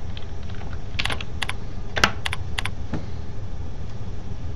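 Scattered keystrokes on a computer keyboard while logging in, a handful of crisp clicks spread over a few seconds against a steady low hum of background noise.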